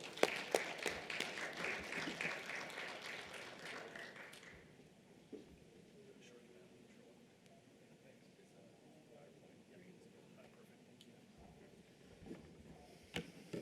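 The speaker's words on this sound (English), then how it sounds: "So give a round of applause for Warren" An audience at a talk on carbon capture and biomass applauds the speaker, Warren: a dense burst of clapping that fades after about four seconds into quiet room noise with scattered small taps.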